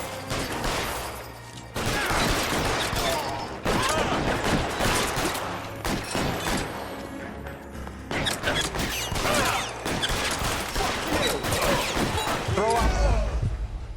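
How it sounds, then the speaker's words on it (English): A shootout in the video game L.A. Noire erupts with rapid, loud gunfire volleys, dense bursts of shots cracking repeatedly across the whole stretch with brief lulls between flurries. "Alright, it's shooting."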